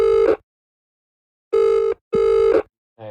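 A telephone rings through an outgoing call to a friend: loud, buzzy ring tones in short bursts with gaps of silence between them, then a brief click as the line is picked up.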